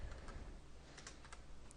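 Keys clatter on a computer keyboard as Java code is entered, a run of light irregular clicks at close range over a quiet hum, with no speech.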